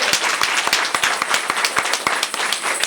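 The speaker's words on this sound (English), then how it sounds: "can we just give it a round of applause for everybody that's on this panel?" An audience at a leaders luncheon claps for a panel, many hands in a dense, lively burst with sharp individual claps standing out, close and loud throughout.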